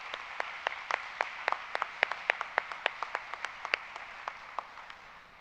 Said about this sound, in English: One more round of applause for Mayor Stephanson.